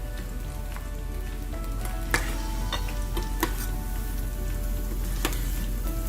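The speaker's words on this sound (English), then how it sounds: "And I can hear it getting crispy because of the rice flour." Rice-flour-coated cauliflower fries in a pan on low heat, a soft continuous crackle and sizzle with a few sharper pops and ticks scattered through, fairly quiet and steady, no voices.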